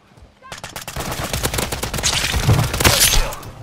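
Rapid gunfire in an online battle royale shooter, dense bursts of shots building over a few seconds, loud and close with a voice briefly under it.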